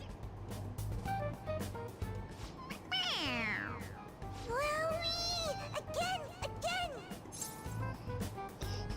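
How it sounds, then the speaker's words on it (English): A squeaky toy cat in Persona 5 Royal gives several rising and falling electronic meows when pressed on its head, over steady game background noise and a low hum. "It meows when you press on its head."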